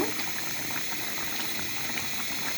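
Beef and potatoes cook in a pot with spices, a steady soft bubbling and hissing simmer, close and continuous without talk.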